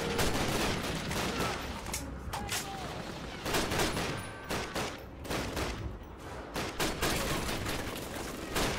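Machine gun fire in Call of Duty with United Offensive, loud dense bursts of rapid shots in several volleys separated by short gaps, close and continuous over a battlefield din.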